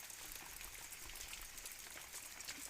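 Light, steady rain falls outdoors in a rural Indian setting, a faint, even patter of drizzle with scattered drops and no speech.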